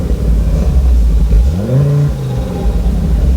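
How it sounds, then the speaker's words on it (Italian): Turbocharged five-cylinder Fiat Coupé tuned to 400 horsepower revs hard up close, a loud, throaty engine note climbing and dipping in pitch, with a whining turbo rising beneath it. "Sentite anche il turbo"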